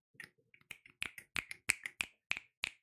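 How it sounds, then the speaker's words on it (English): Sharp, crisp finger snaps, about a dozen of them, irregular at first and then settling into a loose rhythm. They sound close and clear against near silence, with no voices. "You hear the snap."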